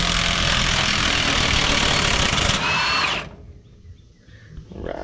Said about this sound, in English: we're gonna try to get this nut off so we can get the spring out